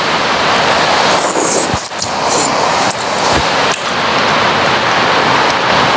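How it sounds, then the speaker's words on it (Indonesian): Steady rain falls throughout, a dense even hiss of drops with a few sharper knocks and taps standing out briefly. "Hari ini hujan dari siang"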